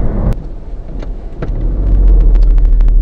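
A car accelerates gradually along a dual carriageway, heard from inside as a steady low road rumble and engine drone that builds slightly in loudness, with faint clicks and no talking.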